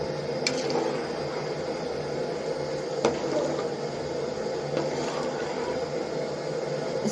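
Water with rice in a pot for beef keema pulao boils with a steady bubbling and hissing roar, with a few sharp clicks or taps from utensils. No one speaks.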